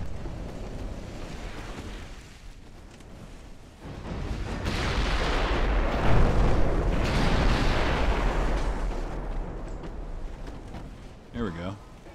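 Naval battle in Ultimate Admiral: Dreadnoughts as a warship fires secondary guns and torpedoes at an enemy battleship, heard as a broad rumbling roar of blasts and surging sea that swells midway, with faint voice-like sounds near the end.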